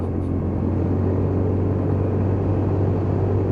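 A Lexmoto Titan motorcycle rides through a roundabout, giving a steady, loud engine drone with rumbling wind noise. The sound holds constant throughout, close up, with no voices.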